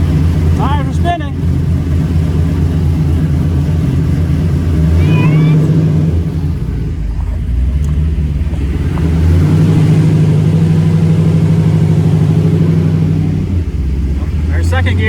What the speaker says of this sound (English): Tires are spinning.